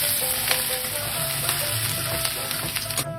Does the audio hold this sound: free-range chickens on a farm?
no